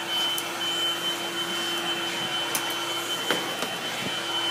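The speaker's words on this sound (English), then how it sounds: "I'm vacuuming." A household vacuum cleaner running in an apartment, a loud continuous whine with a steady drone and occasional bumps and clicks as it moves, close by with no talking.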